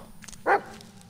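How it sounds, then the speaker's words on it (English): In the Blair Witch video game, a dog lets out a single short bark of moderate loudness at a slight distance, with quiet ambience before and after it. "Doggy found something."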